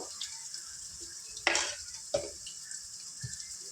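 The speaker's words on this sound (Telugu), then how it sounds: "ఫ్రెండ్స్ ఈ విధంగా ఆనియన్స్ ఫ్రై చేసుకొని ఇందులో ఒక వన్ స్పూన్ అల్లం వెల్లుల్లి పేస్ట్" Onions frying with ginger-garlic paste in a pan, a low sizzle with a couple of sharp scraping stirs near the middle, close and fairly quiet, with no talking.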